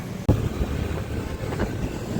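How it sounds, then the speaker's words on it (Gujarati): An auto rickshaw engine rumbles past close by, a low, steady drone with wind buffeting the microphone and a sharp knock near the start. "ઉભો આ રિક્ષાનો અવાજ આવે છે."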